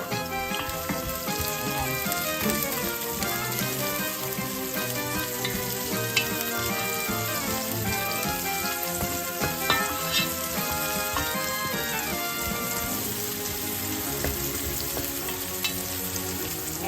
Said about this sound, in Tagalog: ilagay natin yung ating sibuyas. Unahin natin ang sibuyas para hindi masunog